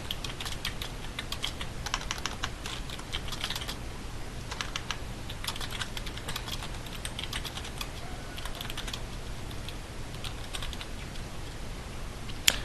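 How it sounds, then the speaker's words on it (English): Someone types notes into a Trello card on a computer keyboard, a quick, uneven patter of close, soft key clicks running continuously without speech. "Just type in your notes or questions."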